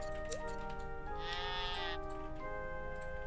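A sheep bleats in the farming video game Harvest Moon: One World, one drawn-out, wavering bleat over a steady game music bed with soft ticking.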